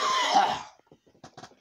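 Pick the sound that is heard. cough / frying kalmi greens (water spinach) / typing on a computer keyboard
cough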